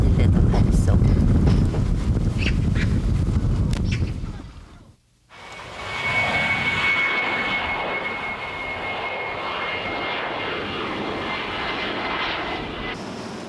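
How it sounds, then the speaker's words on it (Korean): An airplane engine roars steadily on a flight to Jeju, with strong wind noise at first, a brief drop-out, then a sustained cabin drone. "고두심은 제주행 마지막 비행기를 탔다."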